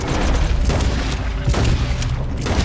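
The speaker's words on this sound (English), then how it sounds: "I'm getting shot right now." Gunfire in a Red Dead Redemption 2 outlaw shootout, a loud continuous barrage of overlapping shots and booms that never lets up across the moment.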